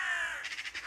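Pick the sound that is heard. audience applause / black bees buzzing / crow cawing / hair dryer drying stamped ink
crow cawing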